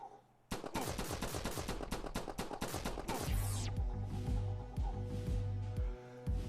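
Rapid bursts of video-game gunfire from the Flashback Mega Drive game ring out loud and dense for about three seconds, then give way to heavier booming shots over a droning synth background.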